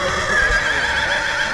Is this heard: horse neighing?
yes